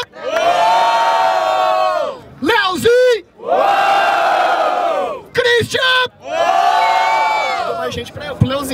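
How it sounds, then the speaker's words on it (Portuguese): A large crowd at a freestyle rap battle semifinal in Barueri, Brazil roars and shouts in long, loud bursts, broken by brief pauses where a voice calls out in Portuguese between the waves of cheering. "Barulho pras rimas do Christian!"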